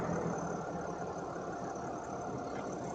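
A 2023 Ram 2500 Rebel with a 6.7-liter Cummins turbo diesel idles in a steady, dense mid-pitched rumble with a faint knocking texture and high whine, close and constant, no talking.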